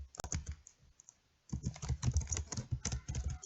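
Clicky typing on a computer keyboard while entering a citation style name in Citavi 6 reference software, with a brief tap, a pause, then a steady run of close, quick keystrokes, no talking.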